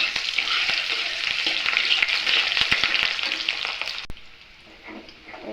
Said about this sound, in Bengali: এই যে পেঁয়াজ কুচি করে রাখছিলাম দিয়ে দিব ফোড়নে।